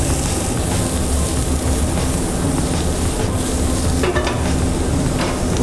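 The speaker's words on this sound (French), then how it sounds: "Donc ici, moi je les poêle simplement pour avoir une petite coloration." Wild mushrooms sauté in a large pan over high heat, giving a loud, continuous close sizzle with brief stirring scrapes and clatters near the end, without any talking.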